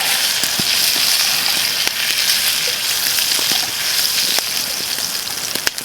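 Bacon fries in a pan over a campfire with a loud, dense crackling sizzle, scattered sharp pops and spits standing out over the continuous hiss.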